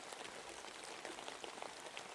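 Steady rain pours heavily, a dense broadband patter of drops landing on surfaces, continuous and even throughout with no voices.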